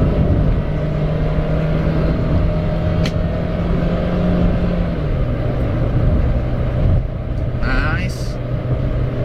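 A Toyota Agya 1.2 G TRD automatic engine pulls hard under full throttle on an open out-of-town road, a steady loud drone inside the cabin with a pitch shift partway through, and voices talk over it.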